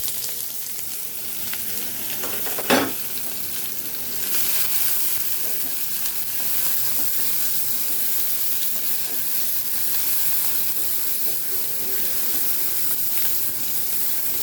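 Onion frying in oil in a pan gives a continuous broad sizzle and hiss, with a sharp clink early on as it goes in and steady crackle afterward, no talking.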